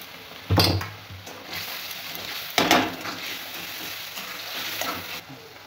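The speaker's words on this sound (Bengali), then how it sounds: "আদা আর রসুন বাটাটা দিয়ে দেবো।" Ginger and garlic paste drops into hot oil in a pan with two bursts of loud sizzling, then a steady frying hiss and light stirring scrapes close by.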